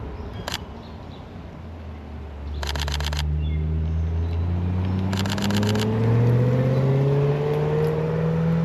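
A rally car pulls in during a road rally, its engine rising from a low idle into a steady revving drone that grows louder and closer, with faint camera shutter bursts clicking in between.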